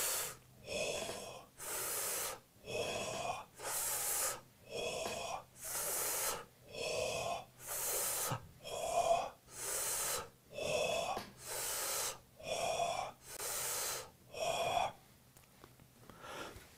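Guided breathing exercise: a steady series of sharp inhales hissed through the teeth alternating with breathy exhales on a "ho" sound, close and quiet, repeating rhythmically with no other sound.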